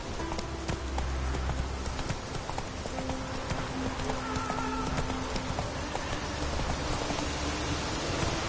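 Roach the horse galloping in The Witcher 3, a steady rhythmic clip-clop of hooves under a constant wash of rain and ambient noise, moderately quiet and continuous throughout.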